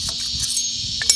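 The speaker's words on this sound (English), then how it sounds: "pardon those cicadas, man. Those things are loud" Loud, steady high-pitched insect buzzing fills the whole moment, a dense continuous drone with a brief swell near the end.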